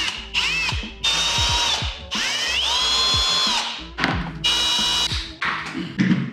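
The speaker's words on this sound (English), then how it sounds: "I wanna drill a hole through these guys, big enough for this to fit through" A power drill bores holes for the screws of a car's rear diffuser, rising and falling in several loud whining bursts with brief pauses and clicks between runs.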